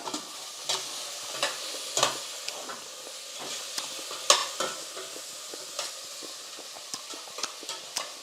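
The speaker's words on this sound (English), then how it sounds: "Can you please check and stir?" Bhuna khichri cooking over low heat in a pot as a spoon stirs it, with repeated scraping clinks over a soft steady sizzle and no talking.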